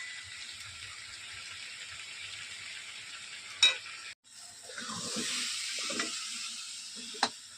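Dal chorchori, a Bengali lentil dish, sizzles steadily in a pan. A sharp clatter comes about halfway through, and a brief dropout follows. The frying hiss then swells again, broken by faint stirring knocks and one more sharp tap near the end.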